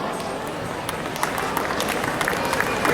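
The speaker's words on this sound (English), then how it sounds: "A big round of applause." An audience at a Janmashtami costume contest in Houston applauds steadily, a dense wash of clapping throughout with scattered sharper claps.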